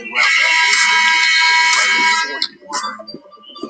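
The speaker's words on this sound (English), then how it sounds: "Buzzer sounds, and for the first time all year, Clippers drop a game on the tail end of a back-to-back." Basketball arena buzzer ending a Clippers versus Magic NBA game, a loud harsh tone held for over two seconds, then crowd noise and a commentator's voice.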